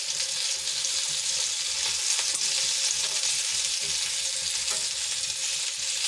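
Stuffed green chillies fry and are turned in a pan, giving a steady, close sizzle with faint scraping of the turning throughout, and no talk.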